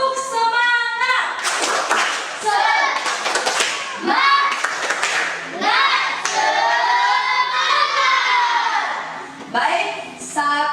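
Classroom children perform the rhythmic 'tepuk semangat' group clap, loud patterned hand claps mixed with shouted chanting voices and a teacher's voice.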